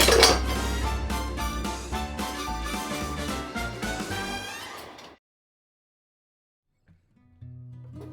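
Squid yakisoba is scooped from the pan into a serving bowl, with close scraping and clinking of utensil against cookware fading out, then silence and a faint low thud near the end.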